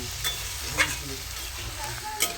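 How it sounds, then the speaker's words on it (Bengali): Food frying in a pan while being stirred: a steady, close sizzle with a few light utensil scrapes and clicks breaking through. "ভালো করে এটাকে নেড়ে নেবো"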